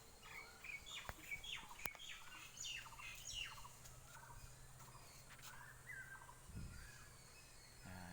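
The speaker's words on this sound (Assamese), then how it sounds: "চৰাইবিলাকে কি কান্দি আছে।" Several birds call repeatedly in short, squawky bursts, moderately distant, over a quiet background with a couple of sharp knocks.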